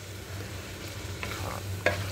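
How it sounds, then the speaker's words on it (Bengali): About 300 grams of chicken breast frying in a pan, giving a continuous close sizzle over a low hum, with scattered utensil scrapes and one sharp clack near the end, no talking. "সুন্দর করে কষাবো এটাও।"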